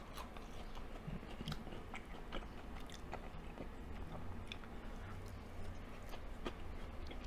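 Crunchy fried cod being bitten and chewed up close, sharp crackling crunches recurring irregularly over a low room hum, no talking.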